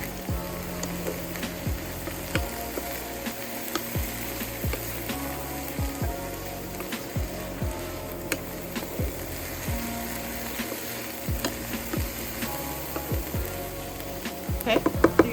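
Onions and vegetables frying in a pan for an omelette give a steady, dense sizzling hiss that carries on without a break, with faint low tones underneath.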